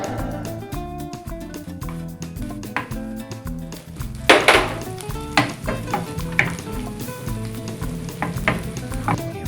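Butter hits a hot pan while making Filipino garlic rice with white onion, bursting into a loud sizzle partway through, then settling into steady crackling hiss with light utensil clinks over background music.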